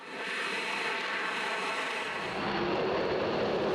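An F-22 Raptor fighter jet, a titanium and composite aircraft with clipped delta wings, flies past as a steady, loud broadband roar that swells slightly toward the end, with no voices over it.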